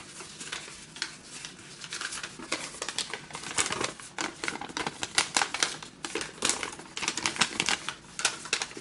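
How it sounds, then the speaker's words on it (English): Paper being creased and folded into an origami base, a steady run of close crisp crackles and taps from handling the sheet, with no talking. "you valley fold, then mountain fold, then valley fold on this crease, and mountain fold on this crease"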